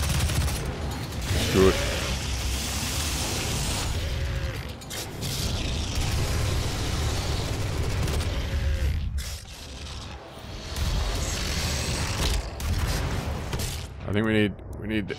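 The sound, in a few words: rocket launcher firing and explosions in the video game Doom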